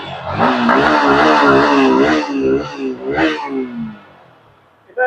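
Yamaha MT15 motorcycle engine revving up hard and holding a loud, rising roar for a few seconds, then easing off with short blips before dropping away near silence.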